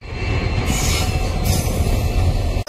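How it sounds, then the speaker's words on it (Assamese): A train pulling into Dhupdhara railway station, loud and close, with heavy rumbling wheels and a high metallic squeal from the rails for the whole stretch. "ফাইনেলি আৰু এটা ট্ৰেইন আহিল"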